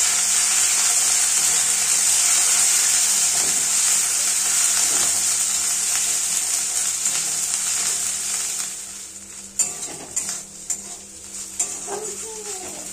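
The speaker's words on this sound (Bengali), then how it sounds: "শুকনো লঙ্কা দেব, আদা বাটা দেব, জিরে বাটা দেব। এবার সমস্ত কিছু খুব ভালোভাবে নাড়াচাড়া করব এবং কষতে থাকব।" Dried chili with ginger and cumin paste stirred and fried in a pan, a steady loud sizzle with scraping spoon strokes, the frying easing toward the end as stirring clatters take over.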